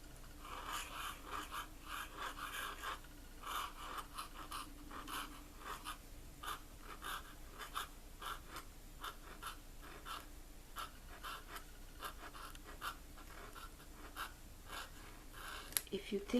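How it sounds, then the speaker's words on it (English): A pointed calligraphy pen nib scratches steadily across paper, close and fairly quiet, with repeated rasping strokes over a soft background hiss. "If you think your nib is not supposed to be all noisy, nibs are loud."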